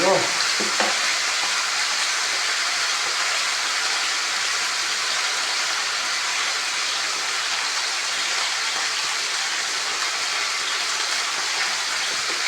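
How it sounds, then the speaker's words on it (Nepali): Potatoes and vegetables fry in a pan with a little turmeric, giving a steady close sizzle throughout while a utensil stirs and scrapes at the start; no one talks. "तरकारी पकाउने आइडिया। मैले थोरै बेसार पनि हाल्छु।"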